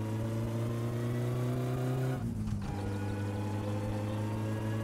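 The Satsuma car engine in the driving game My Summer Car hums and drones steadily, dips briefly as if shifting gears, then settles back into an even running tone; no talking.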